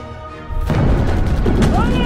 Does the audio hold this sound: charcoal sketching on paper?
no